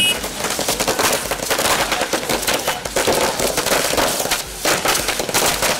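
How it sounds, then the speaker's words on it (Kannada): Firecrackers set off by Congress party workers celebrating a by-election result at Ramaswamy Circle in Mysuru burst in a dense, continuous crackling barrage, loud and close, with rapid overlapping pops throughout. "ಮಾಜಿ ಶಾಸಕ ಎಂಕೆ ಸೋಮಶೇಖರ್ ನೇತೃತ್ವದಲ್ಲಿ ಕೈ ಕಾರ್ಯಕರ್ತರು ಪಟಾಕಿ ಸಿಡಿಸಿ ಸಿಹಿ ಹಂಚಿ ಸಂಭ್ರಮಿಸಿದ್ರು."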